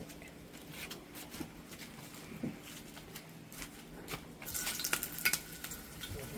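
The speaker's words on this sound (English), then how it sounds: "we just tested it with a little piece of onion and it's sizzling" Hot oil in a pot over an open outdoor wood fire in South Trinidad sizzles softly around a small piece of onion, a faint crackling hiss with occasional clinks of a utensil, growing busier toward the end.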